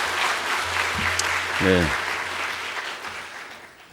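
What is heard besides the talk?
audience applause at a lecture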